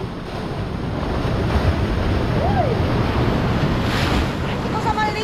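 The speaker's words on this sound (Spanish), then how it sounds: "miren cómo comenzó a subir el agua duro" Sea waves surging and rising onto a shore by a fishing island cove, a loud continuous roar of surf with heavy wind buffeting the microphone.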